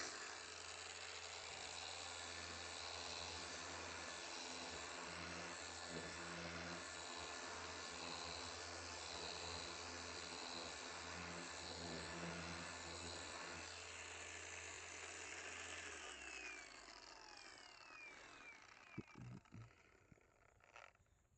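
A Baikemon DM07 cordless buffer/polisher fitted with 120 grit runs at speed setting 6, giving a steady, close motor whine that holds for about sixteen seconds and then winds down into a few scattered knocks.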